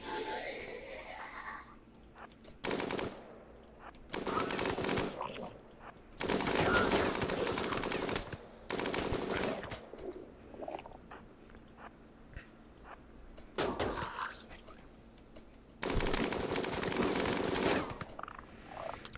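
RimWorld video game gunfire comes in several loud rapid-fire bursts, each lasting one to two seconds, separated by quieter gaps with faint background game sound.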